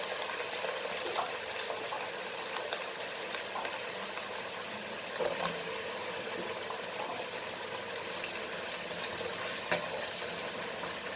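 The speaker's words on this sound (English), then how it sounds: "So just fry this in a hot oil." A continuous soft sizzle of potato wedges frying in hot oil, even and crackling throughout, with an occasional faint clink.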